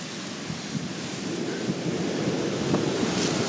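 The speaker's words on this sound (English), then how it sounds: "With this wind?" Strong wind roars during a nighttime power outage, a dense continuous rushing buffet that batters the microphone and holds loud throughout, with faint thuds and gusts swelling within it.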